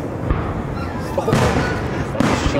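Fireworks burst over Lake Siskiyou in 2024, deep rumbling booms rolling across the water in a dense continuous barrage, with people talking nearby.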